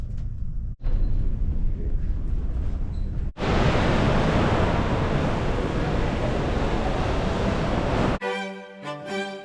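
Ocean surf on a rough day at the beach sends waves crashing in a loud, continuous broadband roar that holds for several seconds, breaks off briefly, then surges again before fading at the end.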